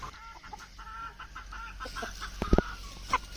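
Country chickens and roosters on a village poultry farm cluck and call steadily at moderate distance, with a louder burst of squawks near the end and no talk.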